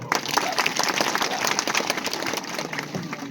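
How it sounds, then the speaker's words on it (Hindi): Loud, steady applause from an outdoor crowd at a Birsa Munda statue inauguration in Ladgaon, Katol, with dense clapping sustained throughout and some voices mixed in. "अपने उनके लिए जोरदार ताली बजाओ"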